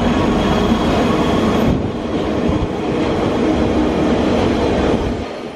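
Steady loud rumble and rushing roar of a moving train at night near London, heard from inside the carriage, continuous with a slight shift in tone partway through.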